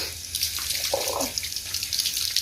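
Water runs steadily from a tap as a child washes hands and face at a sink, a close, continuous splashing flow with brief shifts as the hands move through the stream.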